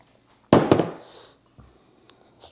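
A fork mixing dry ingredients into banana bread batter, one brief clattering scrape in a bowl that fades, followed by a faint second scrape.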